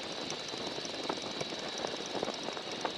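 A small airplane engine drones steadily and evenly at moderate volume with a faint propeller buzz, heard alone for a few seconds.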